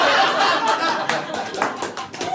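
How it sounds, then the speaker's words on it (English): Audience applause at a comedy roast battle in Scotland: dense clapping from a crowd with some laughter and chatter mixed in, fading slightly over its short duration. "remember that sound of applause?"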